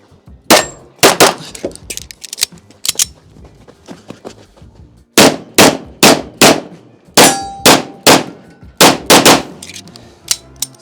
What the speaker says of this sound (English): I think this will be my 2nd time shooting a 1911 ever